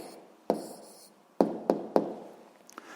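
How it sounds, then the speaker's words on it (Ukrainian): Handwriting scratches out the answer to a physics problem, four distinct short strokes spaced irregularly, close and crisp against a quiet background, no voice over them. "записуємо відповідь. Пишемо відповідь"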